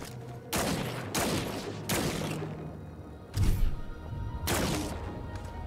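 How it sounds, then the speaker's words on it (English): Rapid-fire electric energy weapon bursts in the video game Scars Above, five loud crackling blasts of roughly half a second each, spaced about a second apart, with a heavier thump in the middle. "Fire, fast burst of electricity energy."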